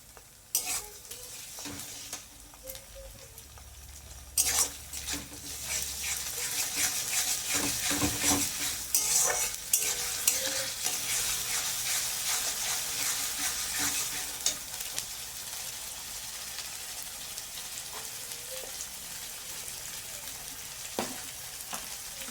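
Ginger garlic paste frying and being stirred in a wok over already-fried onions for a Bengali lotte fish and potato dish, a steady bright sizzle with scraping stirs and utensil knocks throughout.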